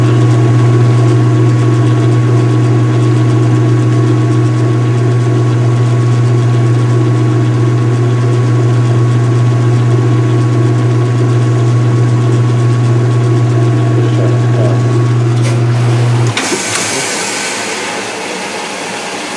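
A washing machine runs with its cover open, a loud steady motor hum that drones continuously, then cuts off abruptly near the end, leaving a quieter hiss and rushing water.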